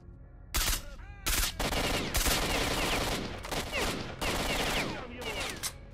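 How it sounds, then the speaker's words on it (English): Gunfire in STALKER Shadow of Chernobyl, loud sharp shots and rattling bursts in several separate volleys with brief gaps, close and dense, with muffled talk faintly underneath. "Stop shooting at me."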